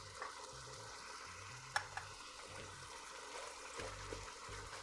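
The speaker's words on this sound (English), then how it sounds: "I want this to cook for a few minutes until the tomatoes and everything gets nice and softened." Green chili, thinly sliced chipotle pepper and tomatoes cooking in a pan for chili cheese dog tacos, with a steady low sizzle, soft stirring scrapes and a couple of brief clinks, no talk.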